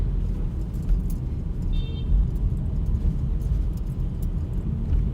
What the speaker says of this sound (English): it's bit traffic in this street